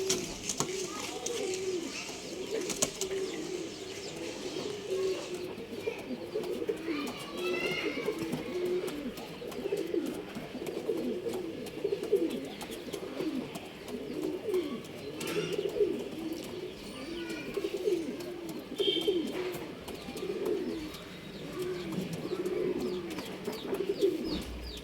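Male pigeons at a bird seller's in RT Nagar, Bangalore, coo softly and repeatedly, close by, while someone talks over them.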